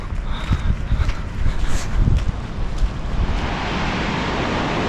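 Powerful river current in the Fann Mountains of Tajikistan, a loud, rushing roar of water close by, with gusty wind buffeting the microphone.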